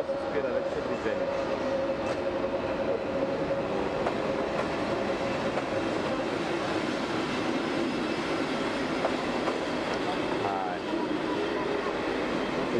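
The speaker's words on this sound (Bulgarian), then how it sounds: "Международният бърз влак тръгва от гара Делян, който ще мине през тунела" An international express train rolls through a railway tunnel between Delyan and Dyakovo stations, a loud, close, continuous rumble of wheels and wagons with occasional clicks and a brief squeal.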